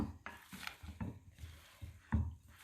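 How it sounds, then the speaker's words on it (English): Grated cheese is stirred into a wet, sticky dinner roll dough, giving soft irregular thumps, scrapes and squelches of a spoon against the bowl, close and fairly quiet. "add the cheese and kind of just stir it together"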